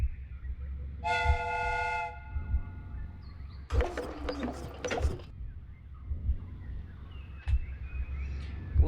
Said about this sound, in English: The steam whistle is now connected.